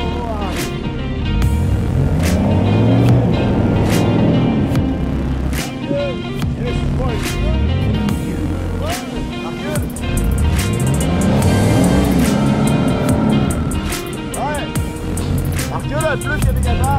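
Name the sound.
vehicle engine revving while driving through mud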